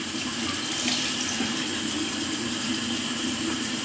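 Steady running water from a sink tap while rinsing the face after a shave, a continuous close hiss and splash filling the whole stretch with no talk.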